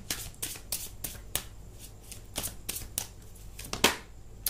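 Tarot cards shuffled for a candle wax reading, a run of crisp riffling bursts and flicks at uneven intervals, close and fairly quiet with no voice over it.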